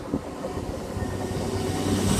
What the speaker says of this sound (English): Now passing straight through platform number 2 at Northallerton will be your 1350 1CF41 cross country service from Plymouth to Edinburgh.